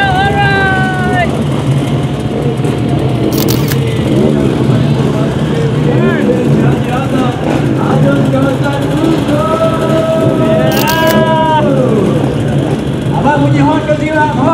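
Crowd of motorcycles at a motor day event roar and rumble together at close range, steady and loud, with horns blaring in long tones and people talking over the noise.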